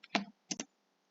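An enter key pressed on a computer keyboard, two or three sharp close clicks in quick succession followed by silence.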